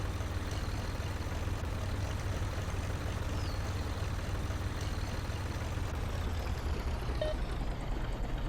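A tractor engine in the Professional Farmer 2014 farming game drones steadily at low pitch, running in high gear without pause and with no voices.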